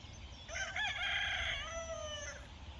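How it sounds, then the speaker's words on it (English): Escaped neighbourhood chickens, with a rooster letting out a single clear cock-a-doodle-doo crow from a short distance, fairly faint against quiet outdoor background. "neighbour's chickens have escaped"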